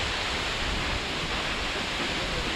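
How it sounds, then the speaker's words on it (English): Karura Falls in Kenya's forest roars as a continuous, loud, broadband rush of falling water with no pauses. "And here you have a completely crazy waterfall."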